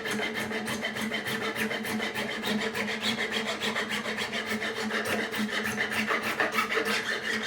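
Frets on a left-handed Tanglewood TRSF-CE acoustic guitar are polished during fret work, giving a steady, close, continuous rasping rub with a quick back-and-forth rhythm that runs without a break and without any talk.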